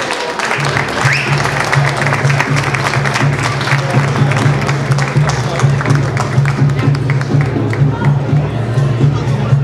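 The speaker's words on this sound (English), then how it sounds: "A big round of applause." A crowd at a police awards night applauds an award recipient with steady, dense clapping mixed with murmuring and a low hum, sustained and loud across the whole stretch.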